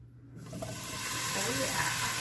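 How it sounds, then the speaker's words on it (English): Potatoes hit a hot enameled cast iron Dutch oven and erupt into a steady, loud sizzle that keeps building, with faint voices in the background. "I'm gonna bring you closer so you can hear the sizzle when we drop those potatoes in"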